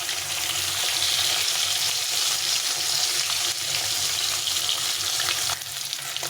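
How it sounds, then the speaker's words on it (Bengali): Pieces of fish frying in hot oil in a pan, a dense, steady crackling sizzle that stays loud and close throughout with no voices. "এদিকে মাছটা ভাজা একদিকে হয়ে গেছে, এক পাশে হয়ে গেছে, আর এক পাশে ভাজা হচ্ছে।"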